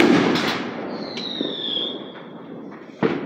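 Handheld firework fired toward the ground outdoors, a sustained hissing whistle with a few sharp pops and a loud crack near the end, close and fairly loud, no talking.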